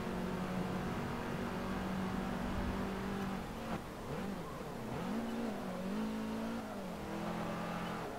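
A racing car laps the Prague street circuit through the old town in Forza Motorsport 7, its engine holding a steady drone before dipping and revving back up through gear changes, heard up close and alone.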